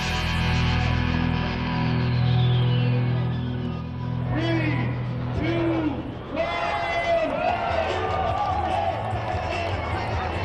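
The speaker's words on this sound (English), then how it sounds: "A jubilant crowd cheers on the competitors as they start their journey to the Capitol building" A crowd cheers at the start of the Salomon X Adventure Race in Park City, Utah, with inline-skating competitors setting off. Broad crowd noise runs under a narrator's voice, and a few whoops and claps break through.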